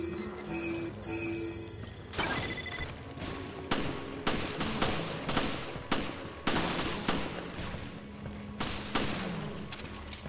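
Enemies firing gunshots in a Resident Evil video game, a rapid series of sharp, loud cracks arriving in repeated bursts with metallic clinks between them.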